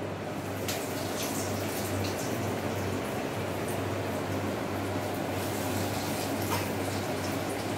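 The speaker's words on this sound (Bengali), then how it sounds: "এবার গরম তেলে আমরা কাটলেটগুলো ছেড়ে দেব।" Egg cutlets dropped into deep hot oil give a steady, even bubbling hiss that runs unbroken and close, with no talk over it.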